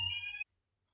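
An electronic alarm beeps once, a loud piercing tone lasting under half a second, then cuts off to silence.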